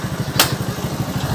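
A motorcycle engine idles nearby with a steady, rapid low throb, and a brief sharp noise cuts across it near the start.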